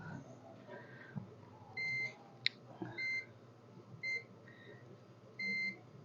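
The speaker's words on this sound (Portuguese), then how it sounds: "os capacitores todos bipa de um lado, ó, terra" A multimeter gives short, high continuity beeps while capacitors are tested on the board of a Samsung J1 (2016) phone that won't power on or charge: four or five brief tones over a faint workshop background.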